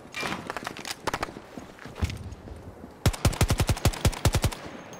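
Gunfire in the shooter video game Battlefield 2042: scattered shots early on, then a loud rapid burst of about a dozen evenly spaced automatic rounds, close and dominant.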